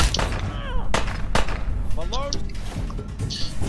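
Hunting rifle shots in Fallout 4 ring out as a few sharp separate cracks amid game combat noise, with voices and creature cries mixed in.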